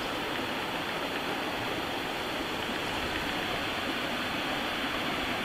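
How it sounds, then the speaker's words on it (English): Steady, broadband rush of creek water flowing below a bush camp balcony, constant and unbroken with no voices. "you can overlook this beautiful creek"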